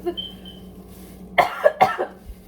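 Two sharp coughs in quick succession, close by, following a quiet stretch with a faint high tone early on.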